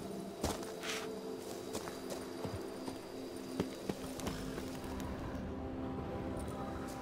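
Roach, a horse in The Witcher 3, walks with steady, soft clip-clop hoof steps on the ground, moderately close and alone with no talking.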